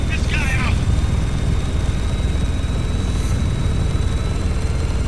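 Loud, steady rotor and engine drone of a helicopter in the video game Spec Ops: The Line, constant throughout, with a couple of brief whooshing effects near the start.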